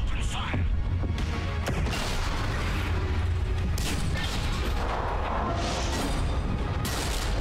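Starship fleet weapons firing in the video game Mass Effect 3: a dense, steady barrage of booms and mechanical crashes that rolls on without pause, loud and close, with no clear speech.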